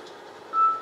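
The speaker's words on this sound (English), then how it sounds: "Annoying phone beeping." A steady electronic beep tone sounds over low background hum, rising briefly in loudness before tapering off.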